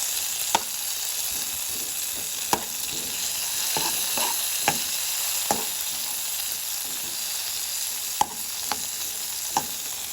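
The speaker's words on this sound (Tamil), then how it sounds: "இரண்டு தக்காளி போட்டு கிளறுவோம்" Tomatoes sizzle steadily in hot oil in a pan for an egg and potato milk curry, with a few sharp clinks of the stirring spoon spaced through the frying and no voices.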